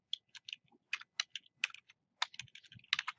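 Quick bursts of keystrokes on a computer keyboard while typing into a web browser's address bar, close and crisp with irregular pauses between short runs of clicks in a quiet room.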